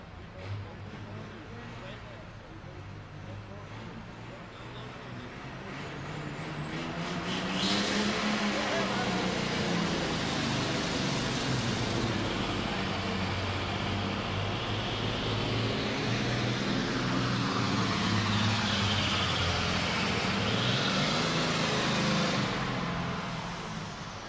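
Farm tractor at a 2004 NFMS Super Farm Tractor Pulling event in Louisville, Kentucky roars louder and holds a sustained heavy drone through the pull, with an announcer talking over it.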